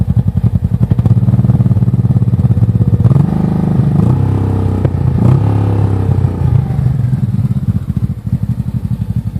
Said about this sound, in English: Let's give you a rev and show you why I want different exhaust.